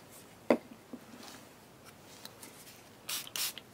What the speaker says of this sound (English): because I sprayed it